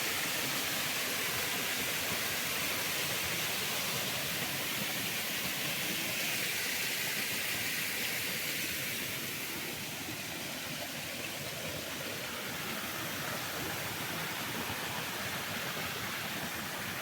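Water pours over the Siva Voda cascade near Bitola in a constant, full, broadband rush that stays steady and loud throughout with no voices.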